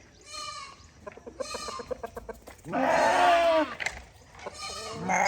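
Several roosters crow in turn, interspersed with clucking and bleats from nearby farm animals in Ghana, fairly close and moderately loud.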